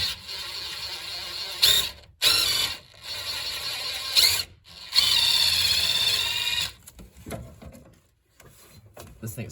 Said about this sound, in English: Drilling method. Drilling.